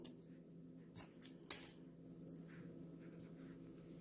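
Two quick, close snips of scissors cutting crochet yarn, crisp and distinct against a quiet room hum, followed by stillness.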